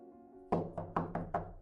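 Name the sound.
knocking on a window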